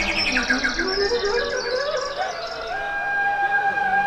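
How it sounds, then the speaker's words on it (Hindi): Birds chirp and twitter near the flowing Ganges beside a monastery, several overlapping calls rising and sliding in pitch, clear and fairly close with no talking. "पक्षी चहचहा रहे हैं।"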